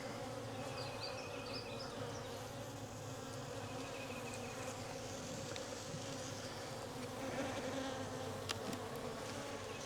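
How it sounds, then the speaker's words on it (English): A dense, steady drone of many bees buzzing together inside a hive, close up and continuous, with no voices over it. "They got a good number of bees in here."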